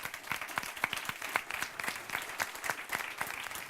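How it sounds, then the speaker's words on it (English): An audience at the Airbus Fly Your Ideas 2017 award ceremony applauds the teams with a dense, steady round of clapping in a large room, moderately quiet and lasting throughout without speech. "So a big round of applause"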